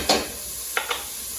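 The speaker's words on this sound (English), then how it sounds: "now once we let that sizzle a bit" Yellow and orange peppers sautéing in a pan give a soft, quiet sizzle, broken by a few short scraping bursts as they are stirred.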